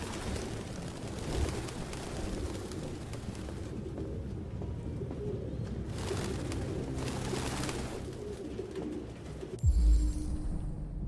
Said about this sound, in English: Pigeons eating well.